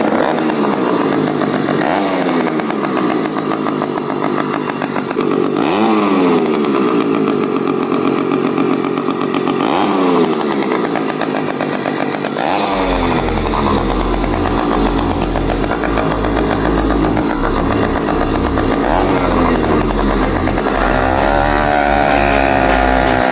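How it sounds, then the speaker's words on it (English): Stock Screaming Demon BBR Racer two-stroke motorized bicycle engine idling, a loud continuous buzzing putter with uneven revs, close by and alone throughout, deepening into a heavier low rumble partway through. "Let's fire it up and show you how it idles."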